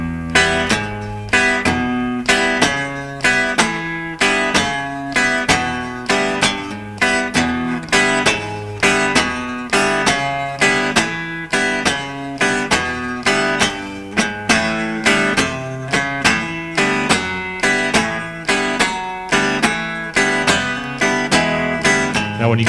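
Blues guitar rhythm played slowly with alternating down and up strokes, each strum crisp and evenly spaced in a steady loping pulse, loud and close with no voice over it.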